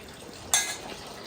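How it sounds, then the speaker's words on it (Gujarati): A mother washing dishes at home, with a single bright clatter of utensils partway through, followed by quieter faint handling noise against a low, steady background. "મમ્મી વાસણ ધોઈ રહી છે"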